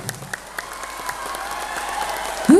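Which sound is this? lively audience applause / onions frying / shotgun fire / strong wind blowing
lively audience applause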